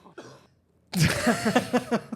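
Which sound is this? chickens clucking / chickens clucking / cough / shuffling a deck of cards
cough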